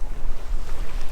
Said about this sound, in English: we've got a little bit of wind now, and at least we're able to sail at about 5 knots